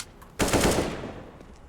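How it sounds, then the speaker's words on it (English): A single burst of AK rifle fire in a competitive video game match, one sharp, loud rattle that cuts in abruptly and then rings out and fades over about a second. "And suddenly Kotov all alone with a Molotov and an AK."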